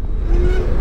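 A Zero DSR 2019 electric motorcycle pulls away under hard acceleration, a rising electric whine threading through steady road and wind rumble, close by and alone without talk.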